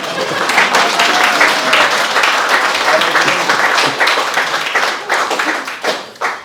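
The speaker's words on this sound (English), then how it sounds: "That's an applause line." Wedding guests applaud after a speech, loud, dense clapping from many hands that holds steady, then thins and tapers off toward the end.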